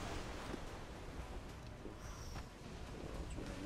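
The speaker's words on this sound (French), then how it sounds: "les vagues sont grandes là, il doit y avoir une tempête pas loin" Stormy ocean waves in Assassin's Creed 4: Black Flag make a faint, continuous broadband wash that swells and eases without pause.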